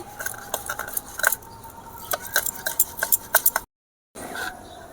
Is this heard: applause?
no